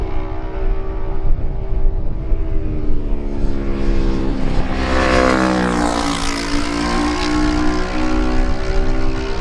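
Kawasaki lightweight racing motorcycles in a road race pass by, their engine note rising and swelling to a loud peak near the middle then falling away, a steady buzzing drone throughout with no voices.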